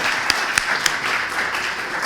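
An audience at an evening panel event on patient privacy in big data applauds, a dense, steady wash of many hands clapping with a few sharper single claps standing out.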